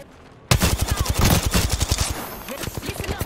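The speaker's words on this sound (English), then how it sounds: "Listen up, I'm getting shot at." Rapid automatic gunfire in a first-person shooter video game, a loud sustained burst of evenly spaced shots that starts abruptly and runs for about three seconds, tapering slightly near the end.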